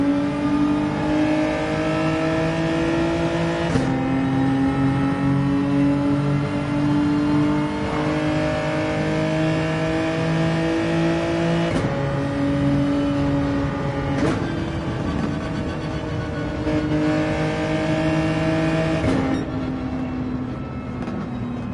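Many race car engines in an Interlagos online racing video game roar together continuously, with loud harmonic engine tones that climb and drop repeatedly through gear shifts as the pack races.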